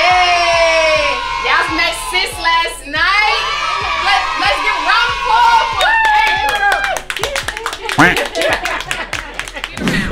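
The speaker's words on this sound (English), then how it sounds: "Let's get round of applause for him." Family members at a Thanksgiving gathering at home clap and cheer in quick, uneven bursts, close by and mixed with overlapping excited voices.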